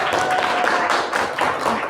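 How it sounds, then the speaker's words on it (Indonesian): A classroom gives a short round of applause for a student group after its presentation: dense, steady clapping from many hands, fairly loud and continuous for about two seconds. "Tepuk tangan dulu untuk kelompok 1."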